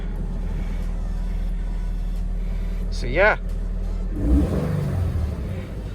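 A car engine idles with a steady rumble, then cranks and revs briefly with a rising whine, continuing to rumble under a voice.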